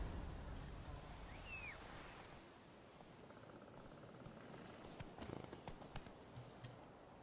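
Geralt's horse trots toward him in The Witcher 3, with soft hoof clip-clops arriving over a steady outdoor game ambience and a brief bird-like chirp early on.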